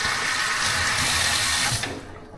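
Water is poured into a food steamer in a steady rushing stream that cuts off abruptly near the end, close and fairly loud.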